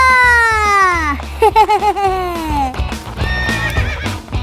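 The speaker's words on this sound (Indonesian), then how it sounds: "Kuda yang mereka tunggangi ini merupakan kuda langganan juara pada ajang pacuan kuda se-Kabupaten Aceh Tengah" A champion racehorse in Aceh Tengah whinnies loudly and close with long, shrill neighs, then hooves pound in a quick galloping beat, followed by further neighing.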